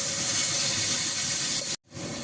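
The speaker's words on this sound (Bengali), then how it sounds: "মশলাটা কষে নেব" Ground ginger-cumin paste with turmeric and chilli powder sautés in a pan, a loud, close, continuous steamy hiss that cuts out briefly near the end.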